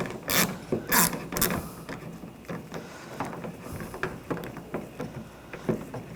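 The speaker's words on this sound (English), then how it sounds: "with the T15 socket, there's a screw in here. You want to loosen this up" A ratchet fitted with a T15 socket loosens a screw on the rear exterior door handle of a 2013-2022 Buick Encore, giving quick runs of close, crisp clicking in short bursts with brief pauses.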